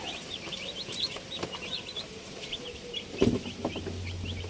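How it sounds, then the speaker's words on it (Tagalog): Young broiler chicks raised on a family farm chirp in a steady, overlapping chorus of short high peeps, with a brief dull thump partway through. "yan na po ang aming mga sisiw na alaga"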